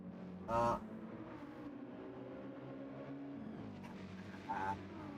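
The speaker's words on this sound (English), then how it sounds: "Good car sound now." Race car engine in a sim racing game hums steadily throughout at moderate volume, with shifting tone and two short bursts of louder noise, while a person talks over it.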